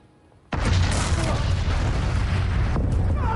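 The 1902 volcanic eruption of Mount Pelée bursts in after a brief quiet, a sudden massive boom that swells into a sustained, roaring, very loud rumble filling the rest of the moment.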